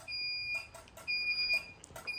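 A CO detector sounds during fire alarm system testing, giving two high-pitched electronic beeps about a second apart, clear over faint background noise.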